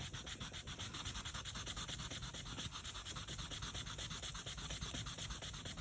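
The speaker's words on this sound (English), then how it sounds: "I'm going back to the sand eraser and really giving it some welly." Sand eraser rubbed hard over a stamped tulip image to lift ink, a close, rapid back-and-forth scratchy rasp repeating in a steady rhythm.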